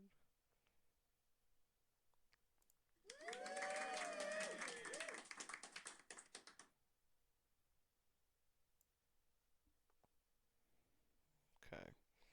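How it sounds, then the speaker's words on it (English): Clapping sound effect played in Scratch, a short burst of crowd applause lasting about three and a half seconds at moderate loudness, surrounded by quiet room noise and a brief click later. "Clapping."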